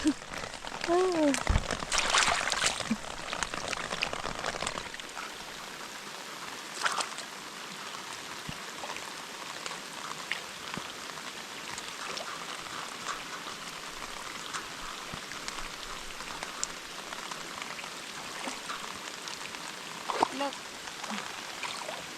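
Steady rain falling outdoors, a dense even hiss of drops with a louder, rougher patch early on and occasional sharper taps, continuous throughout with no talking.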